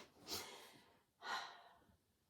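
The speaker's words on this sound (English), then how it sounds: "if you hear sniffing, snooting, that's Frankie" Two short, breathy dog sniffs or snorts close by, separated by a brief pause, with no other sound.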